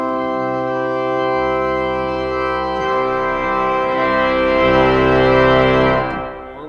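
Pipe organ sustaining a full chord while its stops are changed with preset pistons, so the tone color shifts midway, swelling louder before a quick release, with no talk.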